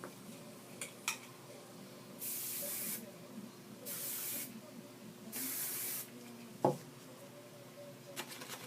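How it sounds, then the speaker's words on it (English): Three bursts of hairspray from an aerosol can hiss onto medium-length teased hair, each lasting about a second and spaced evenly, close and clear over a quiet room. "And spray."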